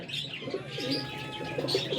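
Soft, repeated cooing of flying-breed pigeons close by, overlapping low warbling calls with occasional chirps, continuous and fairly quiet throughout.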